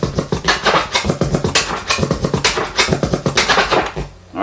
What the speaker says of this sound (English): that's a regular delete scratch